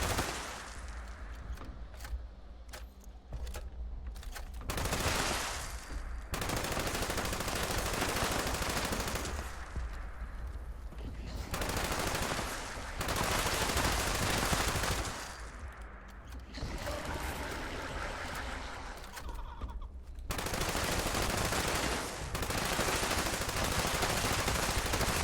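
A weapon in Fallout 76 unleashes long, loud bursts of rapid automatic gunfire. Several sustained volleys are broken by brief pauses, with a crackling ambience underneath.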